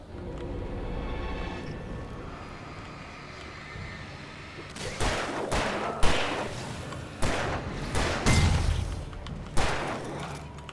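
Gunfire rings out in the Alan Wake video game, a volley of sharp, loud shots and booming thuds fired in irregular bursts after a quieter, rumbling stretch.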